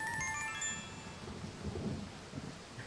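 Steady rain patter with low rolling thunder in the horror video game Corpse Factory, faint and continuous, with a ringing phone tone fading out at the start.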